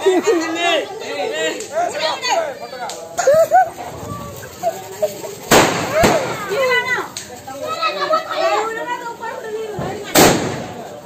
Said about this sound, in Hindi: बम फुटाओ